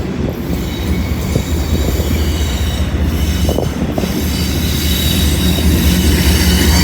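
A General Electric CM44AC locomotive rolls past loud and close, its heavy low rumble joined by continuous wheel squeal and rail clatter throughout.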